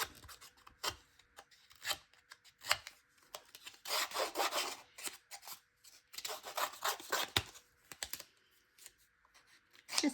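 Paper edges being distressed by rubbing and scraping for a vintage look, heard as irregular bursts of dry scratching and rasping up close, with quiet pauses between strokes.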